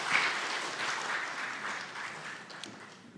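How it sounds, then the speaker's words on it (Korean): A church congregation applauds during a Sunday worship service, steady broad clapping from many hands that slowly fades over a few seconds, with no voices over it. "우리 박수로 환영하도록 하겠습니다"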